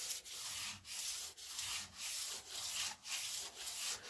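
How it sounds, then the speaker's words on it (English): Stained wooden handle lightly sanded by hand with the finest grit sandpaper between coats of stain, a soft steady rubbing hiss in repeated strokes with brief pauses between passes, close and alone. "sand it a little bit with the finest grit"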